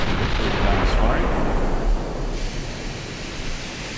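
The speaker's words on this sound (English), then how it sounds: "Guns firing." Battleship guns firing in the naval video game Ultimate Admiral Dreadnoughts, a heavy booming rumble that swells and then settles into a long, noisy roar, with a voice talking over it.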